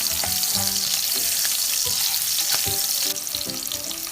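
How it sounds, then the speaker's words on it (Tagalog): Onions fry in oil until golden brown for a squid stew with banana heart, giving a steady close sizzle broken by faint clinks of stirring. "So hanggang maging golden brown yung ating mga sangkap"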